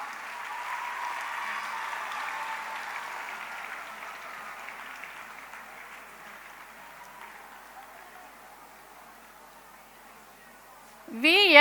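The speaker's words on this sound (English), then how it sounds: "I expect a loud applause for the topper." Applause at a school annual day for a subject topper fills a large hall, a broad sustained wash of clapping that slowly fades, with a brief burst of other sound right at the end.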